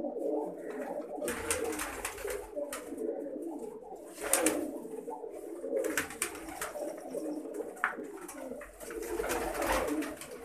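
Domestic low-flyer pigeons coo continuously at a moderate distance, with soft repeated calls layered over one another and occasional fluttering or movement sounds in between.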